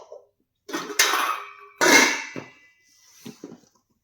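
Thick metal kadai and steel plates clank and scrape as they are handled, giving a few separate clattering bursts with quiet gaps between them, fairly close, with no voices.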